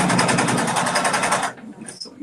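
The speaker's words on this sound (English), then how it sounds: "sewing machine's telling me I'm out of thread." A sewing machine stitches in a fast, steady whir for about a second and a half, then stops. A short, high electronic beep follows, signalling that the machine is out of thread.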